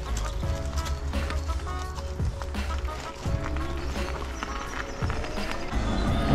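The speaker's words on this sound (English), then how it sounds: "Loads of horses out today." Several horses clip-clop along a road outdoors, their hooves sounding as a steady stream of hard knocks under a constant broadband roar of wind or passing traffic.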